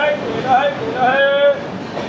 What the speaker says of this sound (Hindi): उस ट्रेन रुकने की वजह ये है मौर्या एक्सप्रेस